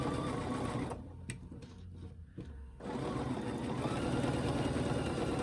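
A sewing machine stitches a quilt block with a steady mechanical whir, close and continuous, pausing briefly for about two seconds before running again.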